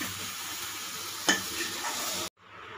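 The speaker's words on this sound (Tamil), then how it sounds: "தக்காளி பழம் நல்லா வதங்கிடுச்சு" Tomatoes sautéing in a pan for a Tamil tomato kuzhambu, giving a steady broadband sizzle with one sharp stir or clink midway, before the sound cuts off abruptly near the end.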